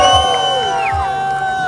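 A rap battle audience roars and whoops in approval for a rapper's rhymes, a loud crowd of voices cheering with shrill shouts and rising whistles over about two seconds.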